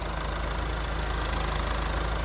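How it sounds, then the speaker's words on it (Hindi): A Mahindra Scorpio N with a 2.2-litre diesel engine idles steadily, a close, even low rumble with a faint knocking texture, heard alone and without speech. "सो डीजल इंजन की भी इतनी ज़्यादा साउंड जो है वो नहीं आ रही"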